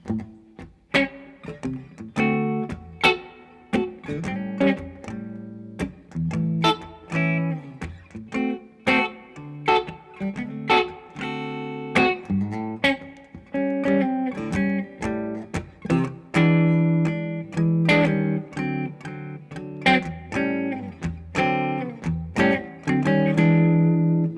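A guitar plays a 1-4-5 blues chord progression with a steady shuffling rhythm, the chords changing in a repeating pattern. No voices, just the instrument alone.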